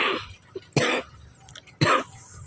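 Three harsh coughs spaced about a second apart, close and fairly loud, with quieter throat noise between them.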